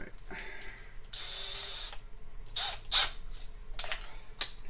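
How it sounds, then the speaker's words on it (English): A Milwaukee M12 FUEL hammer drill/driver drives Phillips screws in several short bursts: one longer whir, then a few brief spins with quiet gaps between, moderately faint at close range. "we're going to start off with a couple Phillips screws just to get her warmed up here."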